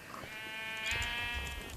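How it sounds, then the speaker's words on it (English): A sheep bleats in Minecraft, one long wavering bleat standing out clearly over quiet game background noise. "plenty of sheep around"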